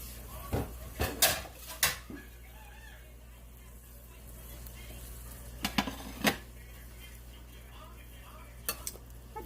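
Loaded omelet with ham frying in a pan: a steady low sizzle runs throughout, broken by scattered sharp clacks and scrapes of a utensil against the pan.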